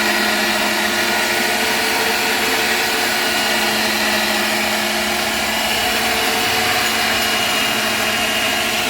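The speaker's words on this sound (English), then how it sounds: "Now we're gonna get power to the winch." An electric winch on a motorcycle loading setup powered and running, a loud, steady motor whine with a constant tonal hum, close and without pauses.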